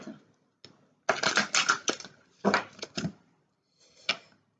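A tarot card deck handled and put back in order on a table, with irregular bursts of papery shuffling and card slaps separated by short pauses, close up and without talk.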